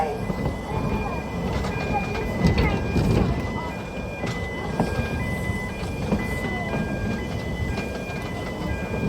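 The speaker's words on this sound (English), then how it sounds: "you're travelling on board a little piece of history" A narrow-gauge heritage steam train at Whipsnade Zoo rumbles and clatters along the track at close range, with a steady mechanical drone, squeaky metallic tones and occasional knocks.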